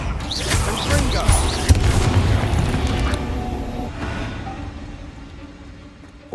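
A Confringo spell blasts in the Hogwarts Legacy video game, a loud booming explosion with rumbling crackle that decays over several seconds, mixed with combat effects.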